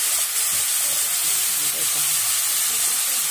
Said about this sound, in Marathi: आता कांदा आपला व्यवस्थित भाजून घेऊ आपण